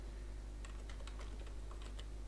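Fingers tap out a short run of keystrokes on a computer keyboard while text is edited, quick light clicks in an irregular burst over a steady low electrical hum.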